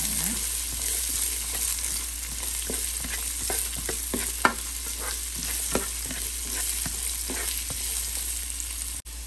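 Sliced onions frying in a pan for a Punjabi-style okra fry, with a steady close sizzle and irregular scraping clinks of stirring throughout, no talking.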